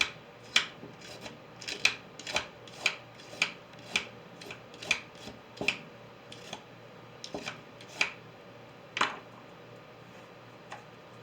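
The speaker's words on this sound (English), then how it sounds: "That's how I peel my carrot." A carrot scraped with a peeler in a kitchen, giving a steady run of short rasping strokes at a roughly even rhythm, close and clear, with no talking.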